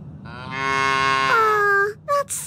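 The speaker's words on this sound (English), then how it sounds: "There's a bunch of cows on the field. Oh, I love cows." Cattle in the video game Little Misfortune give a single long, loud moo that rises and then bends downward, followed by a couple of short, clipped calls, with no talking.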